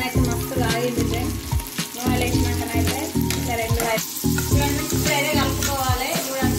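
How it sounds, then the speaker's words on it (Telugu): Hot oil poured over sweet corn sizzles and crackles loudly and steadily, with clinking stirring strokes coming through in a busy, close-up spray of frying. "ఇప్పుడైతే వేడి వేడి నూనె వేయడమే."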